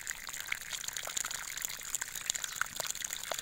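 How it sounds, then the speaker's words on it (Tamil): Water runs through a drip irrigation hose that has been patched with tape where squirrels and rabbits chewed holes. The sound is a faint, continuous trickling and gushing spray with small splashy spikes, and no talking. "பாருங்கள் இவ்வளோ தண்ணி வந்தாலும் பிரச்சனையே இல்லை."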